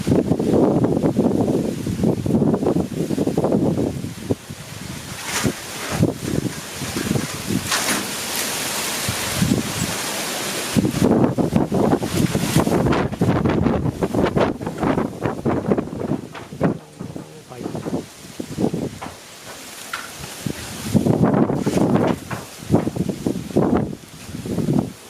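Strong gusting wind of a summer storm sweeping across northeastern Thailand, roaring and buffeting the microphone in loud surges with rustling debris, fading briefly before building again near the end.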